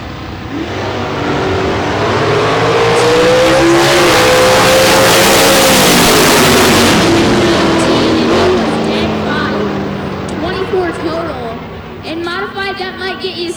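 Cars at the US131 Northern Nationals drag strip, including a dragster, roar loudly down the track, the engine pitch sweeping up and then fading, while an announcer talks over it.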